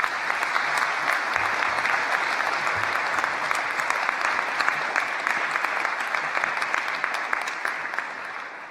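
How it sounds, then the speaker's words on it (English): A large crowd of friends and family applauds at a university graduation ceremony, steady continuous clapping with scattered sharp claps that carries for nearly nine seconds without talk. "A round of applause."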